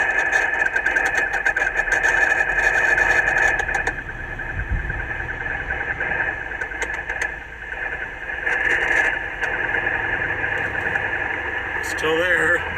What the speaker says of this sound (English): That warbling noise you're hearing.